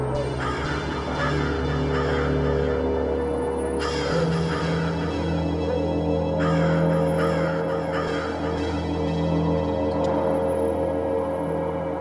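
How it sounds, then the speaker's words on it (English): Several loud crow caws ring out in a repeated series over a steady humming background drone, with no talking. "a crow calls itself into ether"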